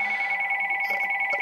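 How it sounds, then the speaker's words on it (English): A telephone rings nearby with a steady, continuous electronic trill, its tone fairly loud and unbroken through the short moment. "now the phone is ringing"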